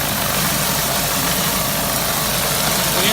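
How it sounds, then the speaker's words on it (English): A pressure washer surface cleaner scrubs a concrete driveway, producing a steady, loud broadband roar with an engine-like drone that holds constant without pause. "we'll come in with our surface cleaner and we'll scrub it all down"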